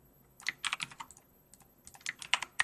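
Computer keyboard keys pressed quickly for shortcuts while coding, a close, soft flurry of clicky taps in uneven bursts with a short pause in the middle, no voices.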